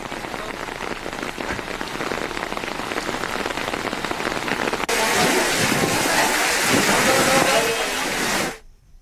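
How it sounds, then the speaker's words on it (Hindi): Heavy rain pours steadily in the Ganga and Yamuna valleys of Uttarkashi, Uttarakhand, a dense hiss of drops striking surfaces that grows louder partway through before cutting off abruptly. "वहीं उत्तरकाशी के गंगा और यमुना घाटी में देर रात से ही भारी बारिश का सिलसिला जारी है"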